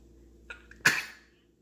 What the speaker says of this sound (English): Oh, you're sneezing.